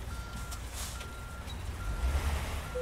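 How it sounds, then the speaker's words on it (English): Truck reversing beeps sound in American Truck Simulator as a trailer is backed up: a steady, evenly spaced run of high electronic beeps over a low engine rumble, with no voices. "We're pretty good at backing the trailer."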